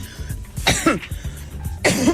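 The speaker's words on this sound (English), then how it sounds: "that sounded like I coughed right on you" A single person coughs twice close to a studio microphone, sharp bursts with a pause between, during a radio talk show broadcast.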